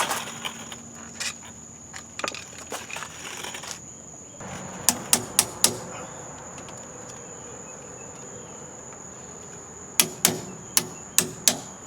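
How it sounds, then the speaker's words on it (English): Pliers work a cotter pin out of a rear drum brake on a GMC motorhome, producing sharp metallic clicks in quick bursts over a steady high whine and background hum. "Got the cotter pin out."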